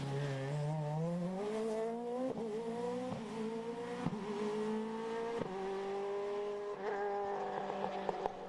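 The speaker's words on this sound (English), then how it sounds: "You can hear the Screamer engine." Rally car with a Screamer engine at the Cork 20 Rally 2023: revs climb in repeated bursts through crisp gear shifts, loud and close as it races past, with no voices.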